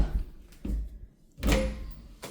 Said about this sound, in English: you actually get a double door with this closet here. So let's go ahead and open that up.